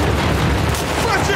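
Gunfire in The Last of Us Part II video game: a short, dense burst of heavy booming shots, loud and close, with a voice faintly present.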